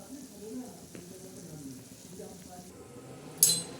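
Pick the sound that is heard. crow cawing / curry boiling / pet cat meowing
curry boiling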